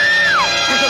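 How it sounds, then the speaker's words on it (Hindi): A woman named Sapna screams in a Hindi film scene, a loud rising-then-falling wail that rings out over a dense, busy soundtrack backdrop. "ये तो सपना की चिल्लाने की आवाज है,"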